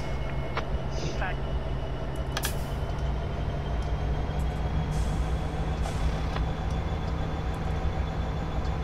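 An SP SD70M locomotive hauling a freight train comes to a stop in Train Simulator 2015 on Donner Pass, a steady low engine drone with clanks, air-brake hisses and squeals, and people talking over it.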